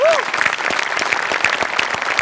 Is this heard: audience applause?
yes